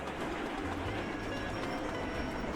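A video-game train hauls wheat along rails with a steady, dense rumble and a faint rhythmic clickety-clack, continuous and close.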